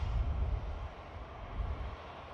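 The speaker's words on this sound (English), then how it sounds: "Got something heavy on approach as well. Short final." Heavy jet airliner on short final approach at Manchester Airport, a brief low rumbling engine drone, moderately loud and steady, heard alone without talk.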